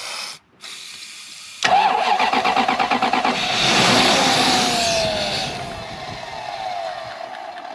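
A Toyota Soarer's engine cranks and fires after a short pause, then revs up loudly and settles back toward a rough idle, heard up close.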